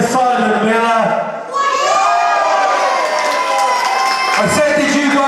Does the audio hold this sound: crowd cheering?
yes